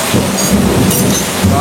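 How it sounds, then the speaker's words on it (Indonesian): Dense, steady hiss of heavy rain pouring down, with a low rumble underneath and faint voices nearby. "Soalnya hujan gede banget sini,"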